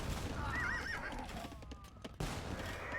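Light cavalry horses whinny in the Age of Empires II video game, a clear neigh with hoof clatter and busy battle noise behind it.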